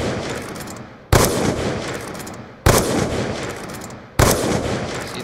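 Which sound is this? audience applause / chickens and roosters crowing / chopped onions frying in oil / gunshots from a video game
gunshots from a video game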